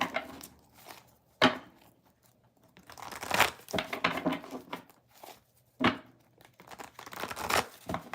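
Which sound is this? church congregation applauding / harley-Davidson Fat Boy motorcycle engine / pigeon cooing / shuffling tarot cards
shuffling tarot cards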